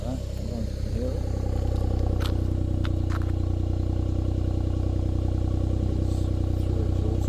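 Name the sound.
customized Suzuki Jimny exhaust being revved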